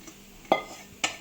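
Two sharp metallic clinks of a spoon scraping a pan as roasted gujiya filling is moved into a bowl, quiet and close, about half a second apart.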